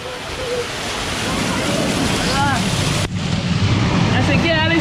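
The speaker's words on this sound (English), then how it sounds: "Alice, about to go through the waterfall." Waterfall at a water park lazy river: a loud, continuous roar of falling water close up, with voices calling out over the rushing spray.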